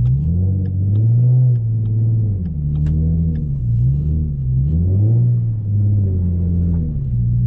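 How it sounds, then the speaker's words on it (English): A car peels out on snow, its engine roaring steadily loud and close with repeated rising revs as the wheels spin, a continuous rumbling drone without speech. "Now we're probably gonna peel out here a little bit."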